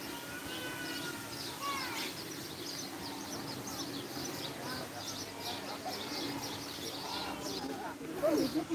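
Birds calling in an open-air enclosure at Bergamo zoo in Italy, with repeated chirps and cooing notes at moderate distance over steady crowd and ambient noise, plus a brief louder call near the end.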